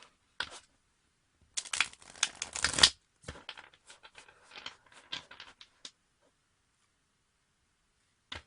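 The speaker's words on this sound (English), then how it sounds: "Let's give the deck some more shuffle." A deck of tarot-style cards is shuffled in a quiet room: one loud riffling burst, then a run of softer, scattered card flicks and taps that trail off into silence, with no talking.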